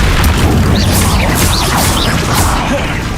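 Spell effects for Expelliarmus and Incendio in Hogwarts Legacy, a dense, loud blast of whooshing magic and fiery rumble with swishing streaks, continuous and close.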